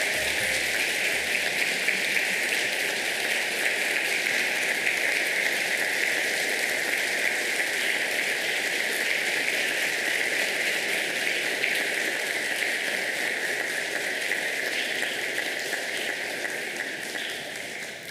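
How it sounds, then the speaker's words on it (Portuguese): Sustained, steady applause from an audience honoring women at a formal civic ceremony, loud and continuous for the whole stretch, fading slightly at the end. "Senhoras e senhores, uma salva de palmas a todas as homenageadas de hoje."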